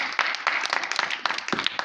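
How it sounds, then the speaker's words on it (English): Children in a classroom clap for themselves in a short, uneven burst of overlapping claps, fairly close and moderately loud, with a few scattered accents near the end. "Clap for yourself."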